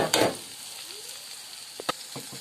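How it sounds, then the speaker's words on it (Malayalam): Crushed ginger and garlic drop into hot oil and sizzle briefly and sharply up close. A few faint clicks follow as the frying settles. "ഇതിലോട്ട് നമ്മൾ ഇഞ്ചി വെളുത്തുള്ളി ചതച്ച് വെച്ചത് നമുക്ക് ഇടാം"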